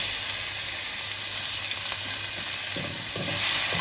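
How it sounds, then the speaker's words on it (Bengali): Garlic frying in oil in a pan for taro leaf greens, a steady close sizzle with a few stirring scrapes toward the end. "ফার্স্টে রসুন দেবো কারণ রসুনটা লাল হয়েছে সময় লাগে"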